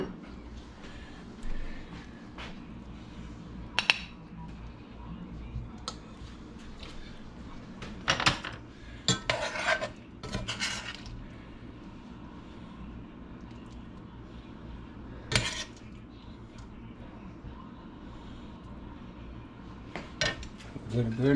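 Dishes and cutlery clink sporadically in a kitchen while Southern shrimp and grits with bacon is plated, a few sharp clatters standing out over a low steady room hum.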